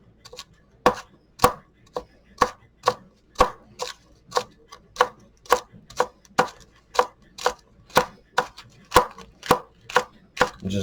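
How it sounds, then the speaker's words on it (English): A knife chops ramps (wild leeks) on a cutting board in a steady, even rhythm. Sharp, close knocks come about twice per second, with no talking. "Now I'm going to chop it up."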